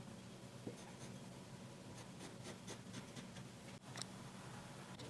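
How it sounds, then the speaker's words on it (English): A pencil scratches a template outline onto fabric, a faint, close scribbling with short strokes and brief pauses in a quiet room. "Now you're going to draw half of your template onto your main piece of fabric."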